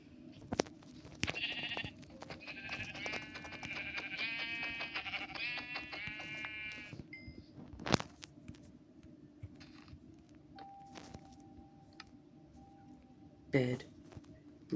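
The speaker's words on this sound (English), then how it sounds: "Alright, another sheep." A blocky Minecraft-style game (Blockbound) plays a run of sheep bleats, several wavering cries packed together near the start and a few more later. A player talks quietly over it, with soft clicks and footsteps around.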